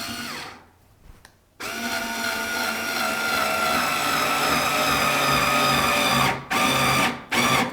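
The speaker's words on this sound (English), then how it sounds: "So we'll start with the Phillips screw in our little pilot hole." Roto-Bit electric screwdriver driving a Phillips screw into a small pilot hole: a steady whirring motor hum running several seconds, with brief stops and restarts at the start and end.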